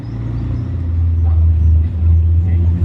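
Ferrari 812 supercar on a closed road, a deep steady engine rumble that swells gradually as it draws nearer, with no talk over it.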